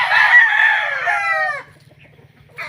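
A farm rooster crows once, a loud, near, drawn-out call lasting over a second that fades into a quiet background with low clucking, followed by the start of another brief call.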